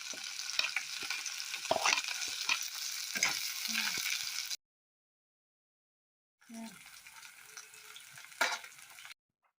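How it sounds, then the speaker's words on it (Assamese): Chopped onions and green chillies fry in a pan with a continuous sizzle and occasional stirring clatter. The sound cuts out for about two seconds midway, then the frying resumes a little softer. "পিঁয়াজখিনি ভালদৰে ভাজি ল'ব লাগিব আৰু কেইটামান কেঁচা জলকীয়া।"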